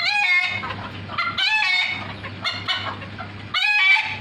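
Chickens cluck in repeated bursts of close, busy fowl calls, with short pauses between the bursts and no voices.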